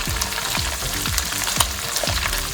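Diced onion and two dried red chilies fry in a pan with a dense, steady sizzle. Rhythmic scraping strokes repeat about every half second, close and fairly loud, and no one speaks.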